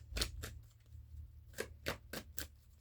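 Quiet, brisk tarot card shuffling in a few short papery bursts separated by pauses, close by with no talking.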